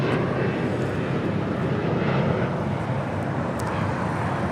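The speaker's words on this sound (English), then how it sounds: "Aeromexico flight 782 coming in from Guadalajara, 737-800, landed here on the south side" Aeromexico Boeing 737-800 landing at LAX, a continuous, fairly soft rushing jet roar that stays level with no distinct peaks and no talk over it.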